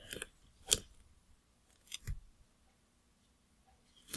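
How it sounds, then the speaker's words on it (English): Scissors cut padding material for bicycle handlebars in a few sharp, separate snips spread across a quiet stretch, close and fairly loud, with no talking. "Cut it about this length, and cut it narrower still"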